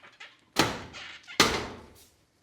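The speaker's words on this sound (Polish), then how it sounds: "To są drzwi do suszarni." A laundry drying room door at a carpet cleaning facility is pushed open and swung shut, giving two loud, close thuds about a second apart, each with a short rattling decay.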